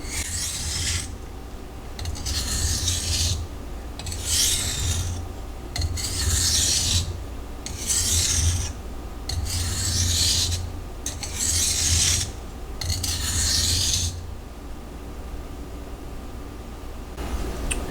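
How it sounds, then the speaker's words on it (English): A Ruike P801 knife with a 14C28N steel blade is stropped lightly, about eight rhythmic rasping strokes in a steady back-and-forth pattern, close and clear, followed by a quiet pause. "I'm just going to do some light stropping."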